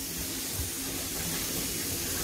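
A thin bajra bhakri roasting on a hot iron griddle, giving a steady, even hiss up close with no talk.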